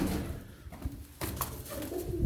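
Low, soft cooing from a Turkish tumbler pigeon in a loft, faint murmuring calls with a couple of sharp knocks or door-like sounds nearby.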